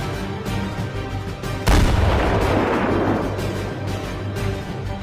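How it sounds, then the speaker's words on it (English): An M777 155mm howitzer fires with US Marines, a single sudden loud boom about midway that rolls into a long decaying rumble over steady background noise. "You can fire the main gun when the howitzer shell is loaded."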